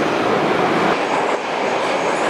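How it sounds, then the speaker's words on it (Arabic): Moscow metro line 1 subway train running underground, a steady loud rumble and roar of wheels on rails throughout with no pauses or talk. "الآن وصلت المترو رقم 1 اللي دينا وسط المدينة"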